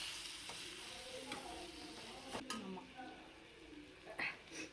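Ginger garlic paste and tomatoes fry in a pan with a continuous sizzle, with several stirring scrapes and clinks against the pan, while a person talks over the cooking.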